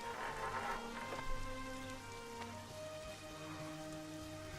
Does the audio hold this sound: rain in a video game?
yes